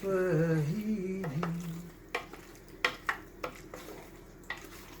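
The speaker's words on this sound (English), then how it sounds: "incorporate thoroughly, mix thoroughly, and then we can actually at this point turn off the heat" Mac and cheese being stirred in a pot, a run of close, irregular spoon scrapes and knocks against the metal over a low background, with a held hum at the start.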